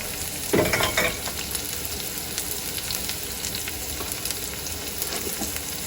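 Ginger, garlic, fenugreek and black pepper sizzle steadily in a hot pan, a soft continuous frying hiss with a brief louder burst as they go in and light stirring scrapes.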